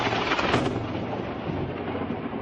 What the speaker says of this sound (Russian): На город в начале дня обрушилась гроза и молния.